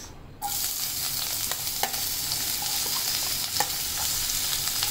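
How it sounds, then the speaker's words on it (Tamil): Onion and curry leaves frying in oil in a non-stick pan, a sudden sizzle that starts after a brief quiet moment and continues steadily with occasional stirring clicks. "ஃபர்ஸ்ட் வந்து வெங்காயமும் கருவேப்பிலையும் தாளிச்சுக்கலாம்."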